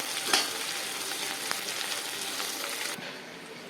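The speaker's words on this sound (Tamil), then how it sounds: "மீடியம் ஃப்ளேமில் வச்சு வதக்குங்க" Onions sautéing in a pan over a medium flame for hotel-style tiffin sambar, a steady close sizzle with an early clatter and a brief tap midway, the hiss dropping quieter near the end; no speech.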